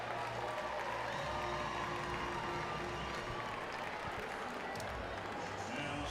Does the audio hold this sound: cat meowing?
no